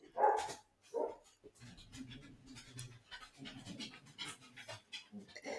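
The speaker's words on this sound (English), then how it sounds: "Oh, that's my neighbour's dog." A neighbour's dog, which sometimes barks at kangaroos, pants rhythmically and lets out a couple of sharp barks early on. The sounds are moderately close and carry on alone without talk.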